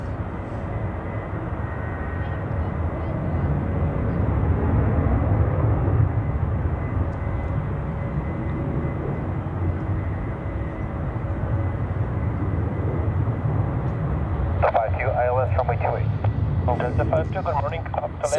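Swiss Airbus A350 airliner at Zurich Airport, a steady loud engine roar lasting throughout, with a voice talking over it and a brief burst of higher chatter near the end.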